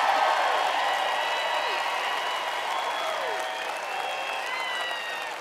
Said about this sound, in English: I'll take the applause